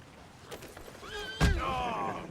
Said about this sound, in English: That horse just kicked my horse!